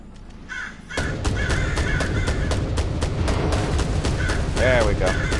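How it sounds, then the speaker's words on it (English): Crows cawing in the video game Black the Fall, a set of harsh repeated caws over a dense, loud rumbling background, some overlapping calls near the end. "so that's like the first set of birds"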